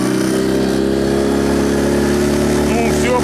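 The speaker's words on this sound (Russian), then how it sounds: "Это звуки мотора Сузуки." A Suzuki outboard motor drives a PVC boat, an Allaska-520, with a steady droning engine hum running continuously at close range, loud and even throughout, while voices talk over it.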